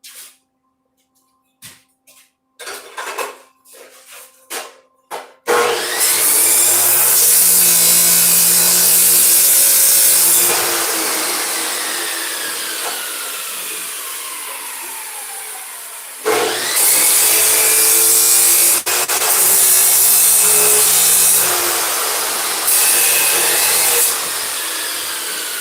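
A power tool grinds loudly and continuously into a metal workpiece being trimmed at the top in a welding shop, preceded by a few sharp knocks and scrapes, with a short break midway before the cutting resumes.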